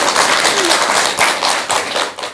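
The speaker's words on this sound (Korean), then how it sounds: "좋은 선행을 베푸르신 보학스님께 큰 박수 한번 주시기 바랍니다." Audience applause for the monk Bohak Seunim at a Buddhist talk event, a dense, steady wash of many clapping hands held at an even level for a couple of seconds.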